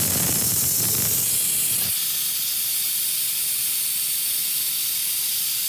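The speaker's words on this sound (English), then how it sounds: "once I start the air, it's going to be kind of noisy" An ARES 709 pneumatic brake bleeder runs on compressed air while bleeding brakes, giving a loud, steady, continuous hiss with a rougher, rattling burst at the start, heard alone.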